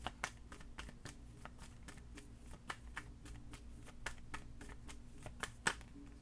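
Tarot cards are shuffled in quick, irregular riffles and taps, soft and close, with a steady run of papery flicks and a few sharper snaps.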